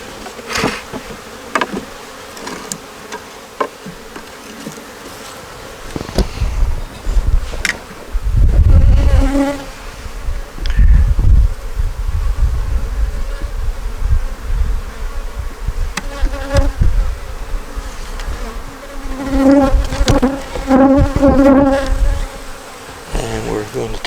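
Honey bees buzz steadily around a DD nuc and eight-frame hive being moved, a dense insect drone with louder swells as bees fly close to the microphone, and no talking.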